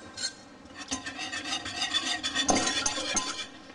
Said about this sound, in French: on va bien remuer tout ça avec un fouet